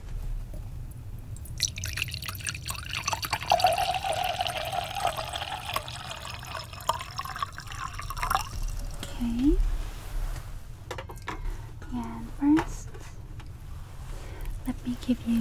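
Water poured into a glass during an airline dinner service, a gurgling stream and drips running for several seconds at close range, followed by soft clinks and handling noises, with quiet talk at points.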